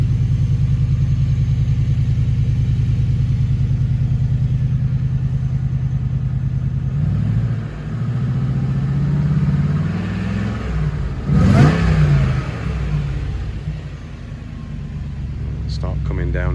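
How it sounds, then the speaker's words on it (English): A supercharged 4.2 V8 in a Jaguar S-Type R, still cold on the choke and fitted with a Sport Jaguar Performance exhaust, holds a loud, steady deep rumble with slight revs throughout while someone talks over it midway. "So you get a lovely, lovely, lovely noise from the Sport Jaguar Performance exhaust"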